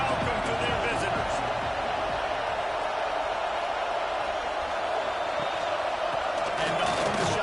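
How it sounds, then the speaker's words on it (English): Loud, steady roar of a big football stadium crowd at a Texas A&M versus NC State game, a dense wash of cheering and noise that holds for the whole stretch with brief swells, rising slightly near the end. "This crowd bringing an ear-splitting welcome to their visitors."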